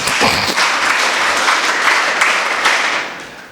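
An audience at a Kannada motivational speech breaks into sustained applause, a dense wash of clapping that holds steady and then fades toward the end.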